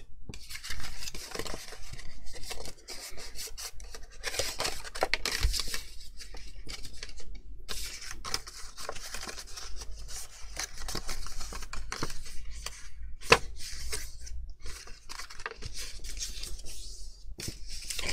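Paper is folded and creased by hand for a twisted bon bon cracker craft. Close, continuous crinkling and rustling go on throughout, with no talk.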